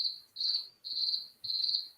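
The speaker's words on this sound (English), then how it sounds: "got crickets." Crickets chirp outdoors in Florida in steady repeated trills, four bursts over two seconds, clear and fairly close with a quiet background and no voices.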